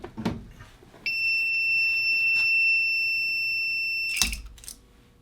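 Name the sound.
Primer Sentry primer alarm sounding on reloading press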